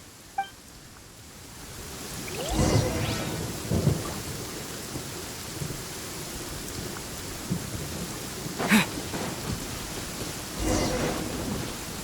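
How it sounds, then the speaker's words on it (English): A thunderstorm in Genshin Impact: steady rain hissing on surfaces as thunder rolls in and swells, followed by a few sharp crackling strikes and lighter rumbles, loud and close, with no talking. "Uh-oh! Lightning storm!"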